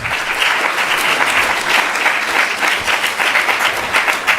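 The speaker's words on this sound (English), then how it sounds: "Please give him another big round of applause." A large audience at a Sunday feast program applauds a speaker after a class on Ekadashi, the clapping dense, sustained and steady throughout, with no voices over it.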